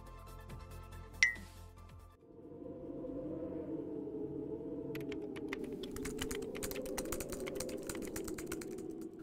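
Rapid, furious typing on a computer keyboard, a dense stream of clattering key presses running steadily and close up for most of the stretch after a brief quiet opening.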